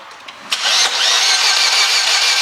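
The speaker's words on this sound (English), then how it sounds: "when we turn the engine now" Opel Zafira engine being cranked and started in a garage, a brief whir then a loud, steady broadband running roar that holds for the rest, up close and without talk; the engine has a failing head gasket pushing coolant from the expansion bottle.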